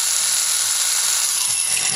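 A power drill with a 0.050 bit spins continuously at high speed during a sandblaster wheel swap, a loud, steady, thin whine held close throughout.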